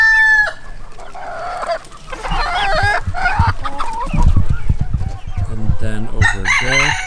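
Livorno bantam cross chickens clucking and a rooster crowing nearby, a busy mix of repeated clucks and drawn-out crows, loud and close.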